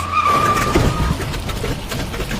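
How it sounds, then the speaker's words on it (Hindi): Dumper truck tires grip the road hard, giving a sharp squeal over a rumbling engine that fades into a continuous broadband roar. "टायरों के जोर से जमीन पर चिपकने की अजीब सी आवाज आई।"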